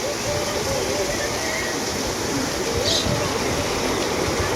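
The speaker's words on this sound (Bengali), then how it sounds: "টিনের উপর টাপুর টুপুর বৃষ্টি" Heavy evening rain drums on the tin roof of a village house, heard from the veranda as a steady, dense, unbroken hiss with no voices.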